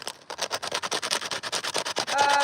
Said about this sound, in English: coming out here now and sanding these spots off